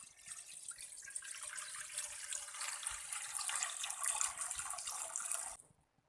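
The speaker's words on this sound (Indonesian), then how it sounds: "Tuang santan encernya ya." Thin coconut milk pours into a cooking pot in one close, steady liquid stream lasting several seconds, then cuts off abruptly into silence.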